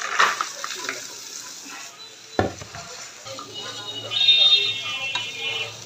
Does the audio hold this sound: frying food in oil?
yes